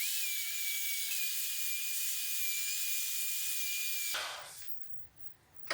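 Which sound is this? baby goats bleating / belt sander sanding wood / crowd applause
belt sander sanding wood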